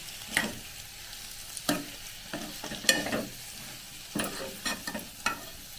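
Raw banana masala curry being stirred in a pan: a spoon scrapes the pan in irregular, fairly close bursts over a soft, steady sizzle, with no talking.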